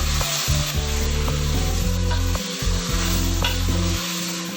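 Mutton pieces for karahi being stirred and lightly fried over medium-high flame, a loud continuous sizzle with repeated scraping and knocking of a spoon against the pan, no voices.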